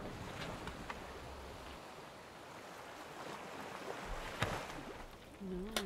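Wind blowing across a sailboat at sea, a faint airy rush with water movement, a few brief clicks and knocks, and a short tonal sound near the end.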